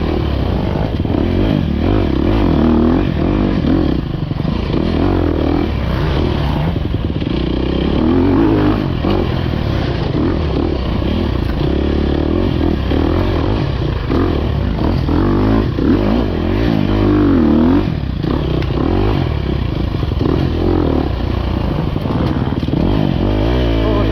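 An enduro motorcycle rides hard off-road, following close behind another bike, its engine roaring loud and near throughout with repeated revs, rises and falls in throttle, and occasional clatter from the terrain.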